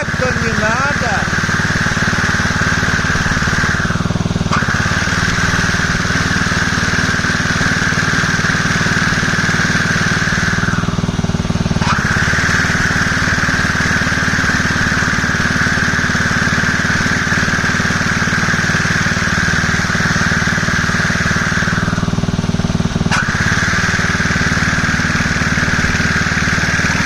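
Champion LMH 5640 two-wheeled trimmer's petrol engine running steadily at close range, a continuous loud drone with brief dips in pitch where the revs drop and return, while people talk over it.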